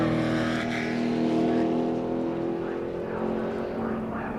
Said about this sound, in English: 43 cars coming out of turn 4 to get the green flag